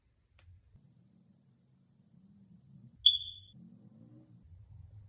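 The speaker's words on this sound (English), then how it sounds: "If a potential buyer hears that chirp, they are going to wonder what else you did not upkeep on the property." A smoke detector gives a single sharp low-battery chirp, short and high, alone in a quiet room with faint low rumble around it.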